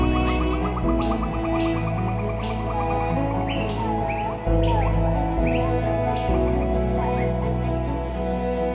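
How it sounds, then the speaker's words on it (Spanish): Birds chirp and sing in the morning at a riverside camp near Cuetzalan, Puebla, as repeated short tweets sound over a loud, steady, droning background. "A la mañana siguiente despertamos con el canto de los pájaros."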